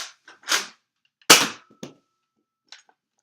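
An Apollo toy blaster fires in a few loud, sharp cracks with short clattering mechanical noises between them. The shots are close and there are no voices.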